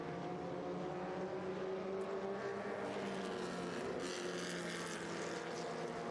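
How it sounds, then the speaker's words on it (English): Skip Barber race cars at speed in a vintage race at the Rolex Monterey Motorsports Reunion, a continuous engine drone with shifting tones as cars pass, fairly faint and with no voices. "So Oliver Ramlet in that number 93, doing everything he can."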